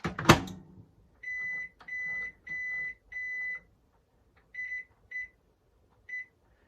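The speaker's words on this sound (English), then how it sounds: "I think I'm gonna put it in for a minimum of 12 minutes" A microwave oven is keyed for a bread bake: a thump at the start, then four steady beeps, and later three shorter beeps, loud and close, with no speech.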